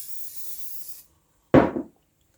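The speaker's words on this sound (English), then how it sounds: "spray with better oil" A single short spray burst of oil from an aerosol can onto a breadfruit and pork meat pie, sharp and close, following a stretch of soft hiss and then silence.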